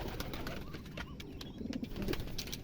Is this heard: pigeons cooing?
yes